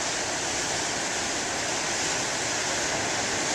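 Moderate ocean waves breaking on shore, a continuous broadband wash of surf roaring steadily without pause, fairly loud and close, with no voices.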